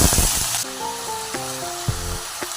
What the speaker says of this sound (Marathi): तेल गरम झाल्यावर आपल्याला भाज्या अशा परतून घ्यायच्यात